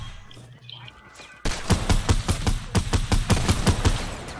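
Rapid bursts of gunfire in Fortnite, loud and close, a run of sharp repeated shots after a quiet opening.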